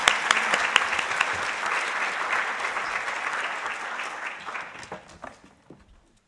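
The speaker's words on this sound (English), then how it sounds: "Let's... applaud once more." Audience applause after a talk at a foundation models conference session, a dense burst of many hands clapping that holds steady, then thins out and fades to scattered claps and silence by the end.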